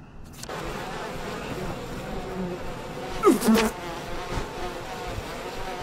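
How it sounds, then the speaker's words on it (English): Bees swarm in the video game We Happy Few, giving a steady close buzzing hum throughout, with a brief louder burst of activity near the middle. "Dang bees."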